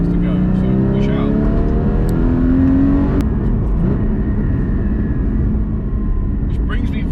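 A white Porsche Cayman GT4 (981) with side stripes accelerates on the road, its engine note climbing steadily and loud up close while someone talks over it.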